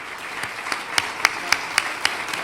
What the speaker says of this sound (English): they really reserve and deserve a round of applause here